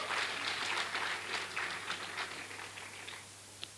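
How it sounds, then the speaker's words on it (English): Audience at a Caribbean secondary schools drama festival applauding: steady, fairly quiet clapping from a crowd that gradually thins out and fades, with one louder clap near the end. "Let's give her a round of applause, please."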